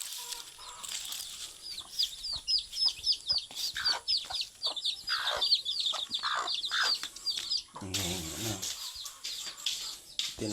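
Pet chickens cluck and chirp while being fed, a busy close run of short calls with a burst of chatter near the end.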